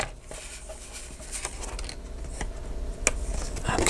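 A paper trimmer slices through laminated cellophane, giving soft scraping and snipping sounds with a few sharp clicks, close and fairly quiet, with no talking.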